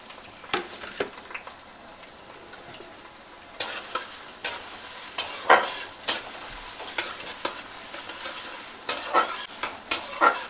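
Chopped onions frying in mustard oil in a pan, soft sizzling at first, then louder crackling with repeated sharp scrapes and knocks of stirring against the pan, close up.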